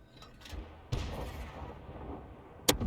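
An SU-18 self-propelled artillery gun fires in a tank video game, giving two sharp, loud blasts with brief rumbling tails over a low background of engine and battle noise.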